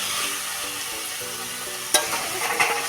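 Cauliflower curry being stirred in a hot pan, a steady sizzling hiss underneath with a couple of sharp spoon scrapes near the end; no voices.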